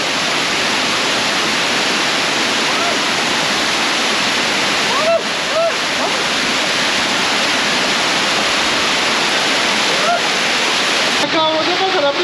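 Steady, loud roar of a waterfall at the Tolantongo caves hot springs, a broad continuous rush of falling water close by, with voices briefly audible through it near the end.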